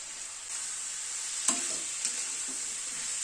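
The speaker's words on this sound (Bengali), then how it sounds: "সবকিছু দিয়ে মশলাটাকে ভালো করে কষিয়ে নেব, গ্যাসের ফ্লেমটাকে মিডিয়ামে রেখে" Chopped tomato and spices fry over a medium gas flame for a fish curry, a quiet continuous sizzle broken by a few soft scrapes of stirring.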